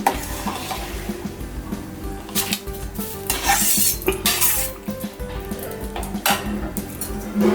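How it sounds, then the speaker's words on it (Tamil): A spoon scraping and clanking against a pot while millet and moong dal pongal is stirred, with steady close metallic scrapes and clinks over a soft sizzle, no talking. "இதை நம்ம அடிபிடிக்காமல் கொஞ்சம் கிளறிக்கிட்டே இருக்கணும், கிண்டிக்கிட்டே இருக்கணும்"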